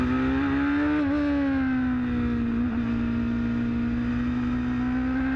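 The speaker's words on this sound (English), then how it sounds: "On board with Kabani now, as we're too wide coming into the club link" On-board sound of a Formula Gulf 1000 race car during a race, its engine holding a loud, steady high drone that dips briefly and recovers as it runs through a corner, with no voices.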